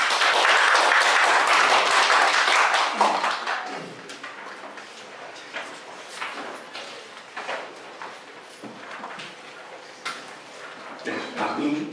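Applause from a seminar audience at a National Assembly session in Korea, loud and dense for about three seconds, then thinning into scattered, fading claps.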